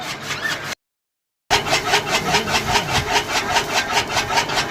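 A Maharashtra kadba kutti chaff cutter machine cuts dry fodder with loud, close, rapid rhythmic chopping pulses over a running mechanical whir, broken once by a short silent gap.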